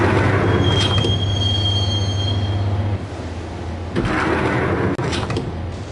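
A subway train in the Max Payne video game rumbles along the rails toward a station, with a long high wheel squeal and steady loud clatter, and no talking.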